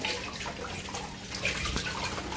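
Running tap water splashing while dishes are washed up in a home kitchen, a steady close hiss and patter with faint clinks and no talking.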